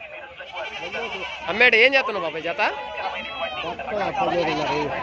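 Goats bleat repeatedly nearby while people talk over them at a weekly livestock market, the wavering animal calls mixing with conversation in a busy outdoor setting.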